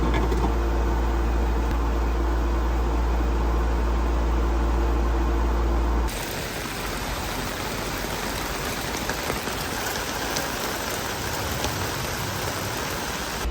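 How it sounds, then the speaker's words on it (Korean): A portable camping air conditioner runs in a loud, steady drone with a deep low hum for several seconds, then cuts off, revealing heavy rain hissing outside. "이 에어컨 소음이 너무 강력해가지고 비 오고 있는지도 몰랐어."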